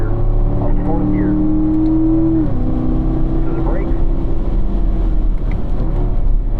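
A race car engine drones loud and steady as the driver squeezes the throttle and climbs to the top of a hill at a driving school track, shifting up to fourth gear partway through, with an instructor's voice talking over the constant roar.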